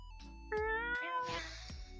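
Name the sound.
person imitating a cat meowing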